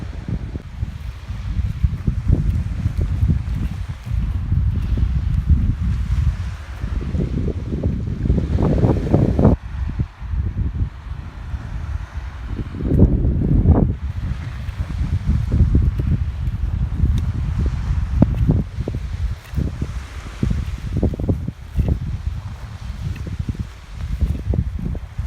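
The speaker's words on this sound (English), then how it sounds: "it's pretty open and windy, so I hope you can hear me on this video" Strong wind gusts buffet the microphone on an open stretch of the Skåneleden hiking trail in southern Sweden, producing a loud, rumbling roar that rises and falls in waves with no talking.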